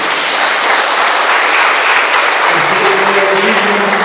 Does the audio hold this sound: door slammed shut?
no